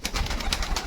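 A female Giribaj pigeon coos close by, a short run of soft rhythmic throaty pulses with no voices.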